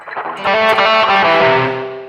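Electric guitar chord through a BOSS eBand JS-series amp dialed for a tone with heavy reverb, a single distorted strum ringing out and sustaining, loud and alone.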